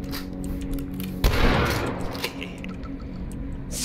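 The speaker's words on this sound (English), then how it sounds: "Super shotgun, baby." A super shotgun fires once in the game Dusk, a single loud, heavy blast that rises sharply over a steady background hum of game ambience before fading.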